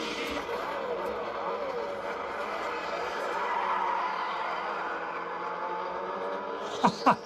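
A car engine in a driving video game played on a retro gaming laptop gives a continuous mid-pitched drone that rises slightly, followed by a couple of sharp knocks at the end.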